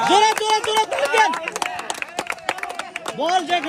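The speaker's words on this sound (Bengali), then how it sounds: "জোরে জোরে জোরে তালি দেন" Fast, loud clapping from a group of players at an outdoor football challenge game, a rapid string of sharp claps mixed with excited shouting voices close by.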